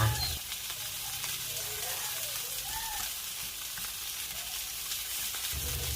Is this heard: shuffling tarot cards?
no